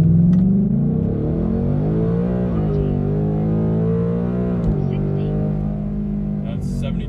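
A 2024 Ford Mustang with a 10-speed automatic launches hard from a boosted 2000 RPM start, its engine rumbling loud and close as the revs climb steadily with pitch shifts through the gears.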